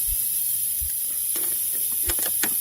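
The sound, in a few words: spraying penetrating oil onto an ATV axle nut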